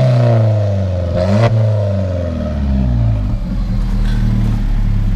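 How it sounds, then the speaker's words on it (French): An Alfa Romeo 4C sports car engine fires up close by, settling into a loud, steady, throaty idle rumble with a brief rev near the start. "le démarrage de l'Alfa Romeo 4C, les amis"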